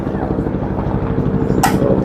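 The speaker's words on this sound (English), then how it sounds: "we got a helicopter going to fly right above us and do a little flyby here" A helicopter passes low overhead during an outdoor women's athletics game, a steady loud rotor and engine drone filling the whole stretch, with crowd and commentary voices mixed underneath.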